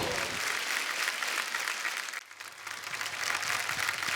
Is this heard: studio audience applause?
yes